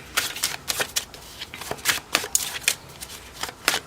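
A deck of pick-a-card reading cards being shuffled by hand, a rapid series of crisp riffling bursts repeating in quick rhythm, close and clear with no talking.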